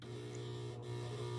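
A sewing machine stitching in an invisible zipper runs with a steady, faint mechanical hum, a soft continuous whir with no pauses.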